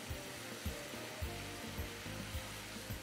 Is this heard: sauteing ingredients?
yes